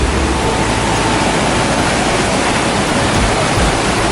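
River rapids rush in a dense, constant roar of white water, loud and close with no break or other sound over it.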